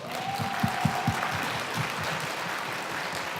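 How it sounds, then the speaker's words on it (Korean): Audience applause at a book concert event, a continuous crowd clapping with a few sharper claps up front, steady and moderately loud throughout. "박수 한번 드리겠습니다."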